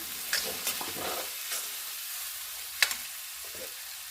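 Spices fry in a pan: salt, cumin and coriander powder, meat masala and red chili powder. A faint, soft sizzle is punctuated by a few light spatula taps and scrapes.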